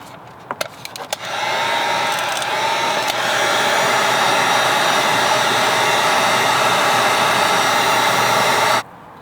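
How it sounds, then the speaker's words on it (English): A heat gun blows a steady, loud rushing hiss while warming solder joint connectors on wires for a switch, starting after a few handling clicks and running evenly for about seven and a half seconds before cutting off. "Now let's just use our heat gun and warm this up."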